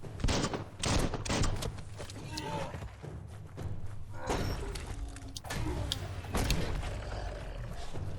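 Gunfire from enemy gunners in the action video game Biomutant, with bursts of rapid shots and mechanical clatter mixed with game effects and creature growls, moderately loud and continuous.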